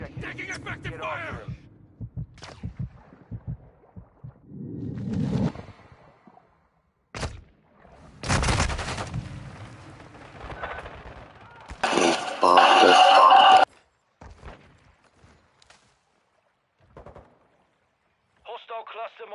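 Gunfire in a Call of Duty multiplayer match: scattered, isolated shots and booming thumps among stretches of quiet, with a dense noisy burst partway through and game voices calling out between them.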